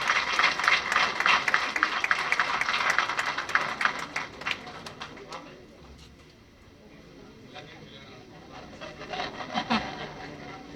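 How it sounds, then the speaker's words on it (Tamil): Audience clapping at an inauguration ceremony, a burst of scattered applause that fades after a few seconds, followed by quieter room sound and a few more faint claps. "எல்லாரும் நல்லா கைத்தட்டி என்கரேஜ் பண்ணுங்க."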